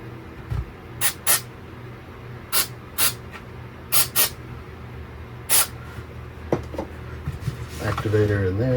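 Glue activator is sprayed onto 3D-printed parts of a 26-inch Super Mario figure in about seven short, sharp hissing bursts, mostly in quick pairs, close to the mic over a low background hum.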